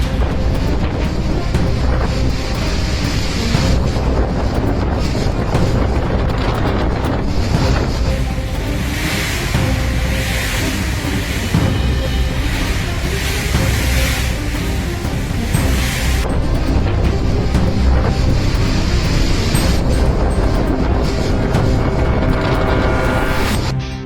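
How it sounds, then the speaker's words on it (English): Typhoon Podul's Category 4 winds, sustained at 191 km/h, roar across Taitung in southeastern Taiwan, a loud, unbroken rush of gusting air and buffeting noise that swells and eases without pause. "Sustained winds at 191 kilometers per hour, equivalent to a Category 4 hurricane on the Saffir-Simpson scale"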